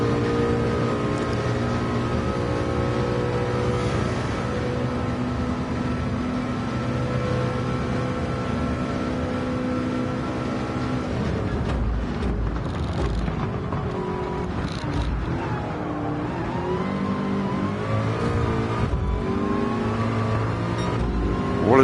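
Racing car engines from the Le Mans 24 Hours game in virtual reality drone steadily and loudly throughout, with a McLaren following close behind, steady engine harmonics and pitch shifts as cars rev and shift.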